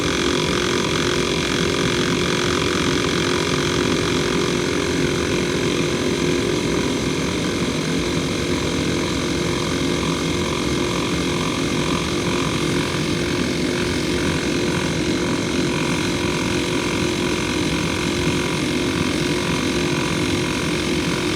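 An Audew portable air pump runs steadily, inflating a tire with a loud, continuous mechanical drone and buzz that holds without a break for the whole stretch, with no voices over it.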